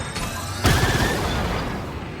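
A charged Trailblazer blaster shot in Star Wars Outlaws goes off as a single loud, close boom with a sharp onset, then fades into a rumbling tail over combat noise.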